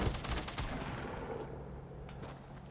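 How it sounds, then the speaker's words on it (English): Bursts of Fortnite gunfire rattle in rapid succession at the start, then continue as a dense, steady wash of shots further off. "Where are these shots coming from?"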